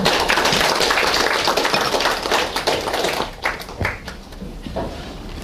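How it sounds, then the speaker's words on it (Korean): Audience clapping in thanks to a monk lecturer after a Buddhist class, dense and steady at first, then thinning into scattered claps before fading. "오늘도 좋은 수업을 해주신 강목 스님께 감사의 박수를 부탁드립니다"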